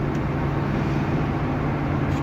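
A 1970 Buick Skylark accelerates in second gear in fairly dense traffic, its engine producing a steady, loud low-pitched drone with continuous road noise and no break or gear change.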